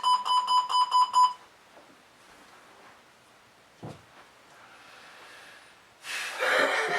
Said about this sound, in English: That was the timer for before.